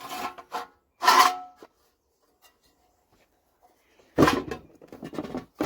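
Nylon string on a Westwood lawn trimmer spool is pulled out in short rasping strokes, a couple of quick rubs, a pause of near silence, then a longer burst of scraping, close and fairly loud.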